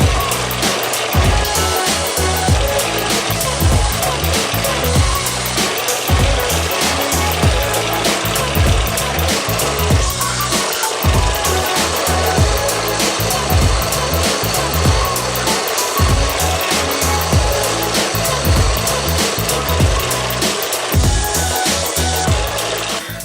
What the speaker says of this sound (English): so now I'm gonna sand this down so that it looks like this, and then I'll do all these, like the curves and stuff, on my drill press